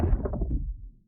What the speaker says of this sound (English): Just those 3 Thunder layers combined sound like this together.